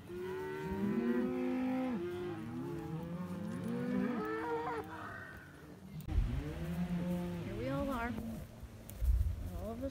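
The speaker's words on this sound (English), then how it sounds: "Gets to chase cows." Cattle bawl and moo repeatedly on a cattle drive across forest range, with long, loud, drawn-out calls from several animals close by that overlap one another, and a few deep lows near the end.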